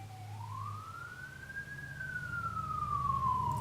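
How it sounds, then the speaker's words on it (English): An emergency vehicle siren wails on a busy street, a single long rising then slowly falling tone over a low traffic rumble, moderately distant and without talk. "so fire trucks, police chases, I hear it all."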